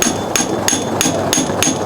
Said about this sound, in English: then you hammer it in